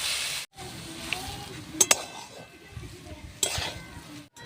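Boiled potatoes stirred into a sizzling vegetable chop mixture in a pan, a steady soft scraping and frying hiss with a few sharp utensil clinks against the pan.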